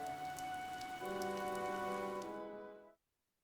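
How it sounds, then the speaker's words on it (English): Steady rain falls in the Fire Emblem video game, a dense hiss under sustained musical tones that cuts off abruptly near the end. "The rain is really coming down now."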